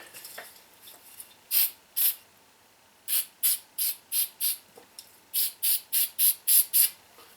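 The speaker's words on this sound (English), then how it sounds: "I'm going to use a little bit of a degreaser and wind up breaking that up just a little bit more" Spray bottle misting degreaser onto RC car gears on a workbench: a dozen or so short, sharp trigger squirts, soft at first, then in a quick, even rhythm, close to the listener.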